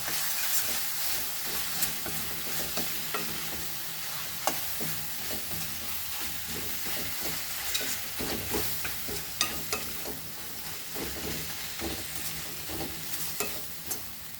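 Onion cooks with ginger garlic paste over a low flame, giving a dense, steady sizzle broken by frequent light stirring taps and scrapes throughout, with no voices.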